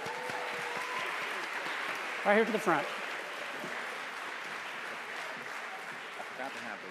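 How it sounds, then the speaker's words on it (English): An audience in a church gives sustained applause, a dense wash of clapping that continues evenly throughout while someone speaks over it. "Come on up, give them a round of applause, please."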